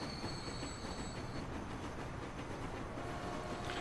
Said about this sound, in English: What a beautiful train the Mallard is.